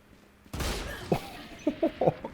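Gunfire in the video game Valorant: one loud opening blast with a lingering tail, then a quick series of sharp, close shots in short bursts.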